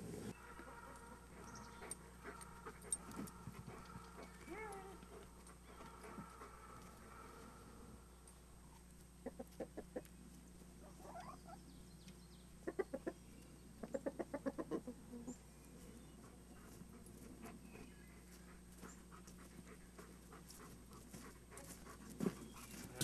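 Chickens cluck and a dog pants in a chicken yard, with scattered bursts of clucking and bird calls over steady low outdoor background noise, fairly quiet throughout.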